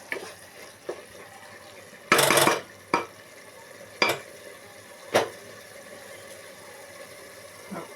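Potato spinach curry cooks in a pan on high flame, with a soft bubbling simmer throughout. A utensil scrapes and clanks against the pan in several separate bursts, one of them longer and louder.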